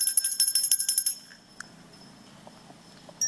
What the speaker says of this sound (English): Costa Rica rings the bell for the love of humanity.